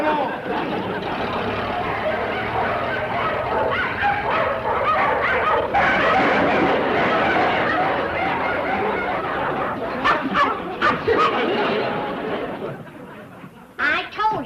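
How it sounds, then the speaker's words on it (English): Dogs bark and yip in a noisy outdoor scene, with voices talking and laughing over the animals throughout. "Them dogs look hungry enough to run him to the state line."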